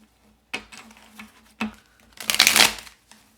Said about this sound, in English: 2 shuffles here.